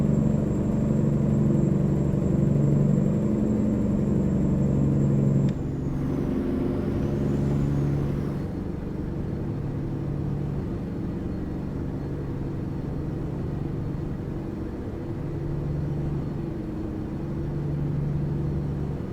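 A heavy truck engine rumbles steadily with its engine brake engaged going downhill in American Truck Simulator, with a high whine fading early on, and no talking.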